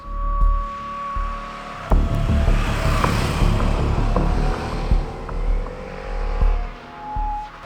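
A Harley-Davidson Nightster motorcycle engine idles and pulses with repeated throttle blips, a deep throbbing rumble close by, no voices.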